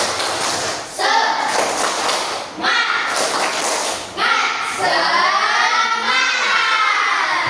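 An Indonesian classroom of children does a rhythmic spirit clap during an Islamic religious education lesson, with loud bursts of clapping in a patterned beat and children's voices chanting along throughout.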